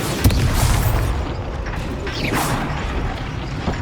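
A Bombarda spell goes off in the Hogwarts Legacy video game, a loud rumbling boom with whooshing and mechanical creaks layered over a dense, sustained roar.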